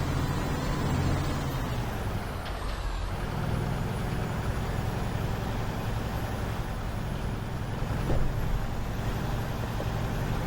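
A truck in American Truck Simulator drives with a loud, steady engine drone and road rumble, a brief air hiss near the start and a slight surge later.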